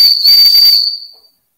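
A Wilesco toy steam engine whistle gives a single shrill, piercing blast with a hissing edge, loud and close, then fades away into silence.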